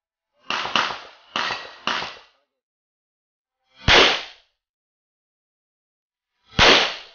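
Five sharp gunshots ring out at a gun range in Lipa, Batangas: four come in quick succession and two more follow, widely spaced, each loud and close with a short decay. No talking is heard.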